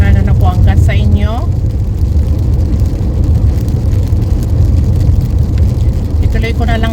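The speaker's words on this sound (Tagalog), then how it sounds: "maingay ang sasakyan, maingay ang ulan" Inside a car on the road during rain, a loud, steady low roar of road and rain noise fills the cabin without pause, while a voice talks over it at the start and end.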